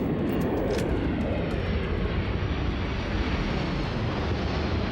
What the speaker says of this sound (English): You gotta love how they sound like jet engines.